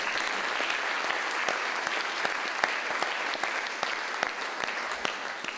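An audience gives a round of applause at an evening CUNY event, honouring an absent professor; dense, steady clapping with no let-up, moderately loud and filling the room.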